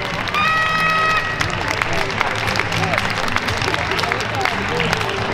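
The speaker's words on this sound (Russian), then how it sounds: "Аплодисментами приветствуем пара номер шесть." Audience applause at a ballroom dance competition in the final of the European Cup, Minsk Open Championship 2020, steady dense clapping from a crowd filling the hall under an announcer's voice, with music faintly audible in the background.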